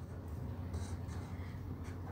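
A teacher writes a word on a classroom board during a primary-school religious education lesson, making soft, scattered scratchy strokes in short bursts against a quiet room.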